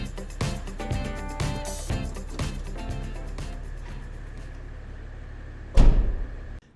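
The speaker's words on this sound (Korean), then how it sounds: "트렁크는 전동 트렁크가 들어간 차량이고요" A BMW X6 xDrive30d M Sport's power tailgate in operation, a series of mechanical clicks and motor whirs followed by a loud closing thud near the end, close by.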